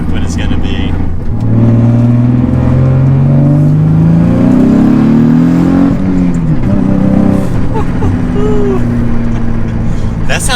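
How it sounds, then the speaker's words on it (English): A heavily modified Nissan Z with about 380 horsepower to the wheels accelerates hard, its engine note grunting and rising in pitch through the revs, loud and close, with a gear change partway and a voice speaking over it. "It almost sounds like a V8 the way it grunts."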